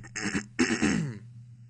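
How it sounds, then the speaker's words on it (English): A man clears his throat with two rough, raspy bursts, a short one followed by a longer guttural scrape, close and distinct against silence. "cannot clear my throat."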